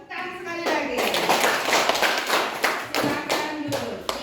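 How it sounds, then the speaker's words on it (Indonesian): A classroom of children clapping their hands together in bursts, loud and close, with short pauses between rounds and some voices mixed in. "tepuk tangan sekali lagi"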